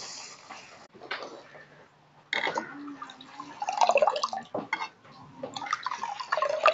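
Moong dal being washed by hand in a vessel of water, with sloshing, swirling and dripping sounds that come in irregular bursts separated by brief quiet pauses, heard close up.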